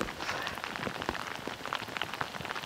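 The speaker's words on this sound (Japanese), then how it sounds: "大雨です。" Heavy morning rain falls steadily during a fishing outing, a dense, continuous close patter and splatter of drops on surfaces with no voices.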